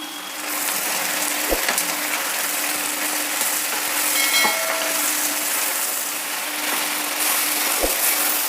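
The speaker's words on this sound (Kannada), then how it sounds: "ಹೀರೆಕಾಯಿನ ಎಣ್ಣೆಯಲ್ಲಿ ಒಗ್ಗರಣೆಯಲ್ಲಿ ಒಂದು ಹತ್ತು ನಿಮಿಷ ಹುರಿದೆ" Ridge gourd fries in an oil tempering with a soft, continuous sizzle and hiss, broken by a few sharp clicks of a utensil against the pan.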